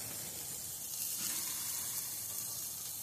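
A stuffed burger sears on an open grill with the lid up, giving a steady, soft, close sizzle and hiss that continues without a break.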